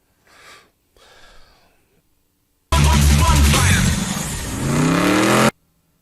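A Dodge Challenger SRT with a Hemi engine bursts into a loud, sustained rev after a couple of quiet breaths, roaring close for about three seconds, its pitch climbing near the end before cutting off abruptly.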